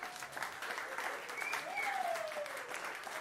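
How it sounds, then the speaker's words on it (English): An audience at a jazz concert applauding, a sustained patter of clapping hands from a moderate-sized crowd, fairly soft and even, with a faint tonal sound sliding through the middle. "big round of applause"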